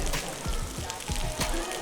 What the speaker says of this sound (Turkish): Çok fazla yağmur yağıyor.